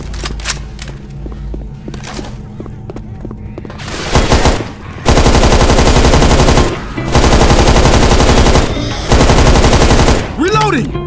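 Sustained automatic fire from the FB GROT B16 custom rifle in Left 4 Dead 2, loud and close in long continuous bursts separated by short pauses, with a reload clatter near the end.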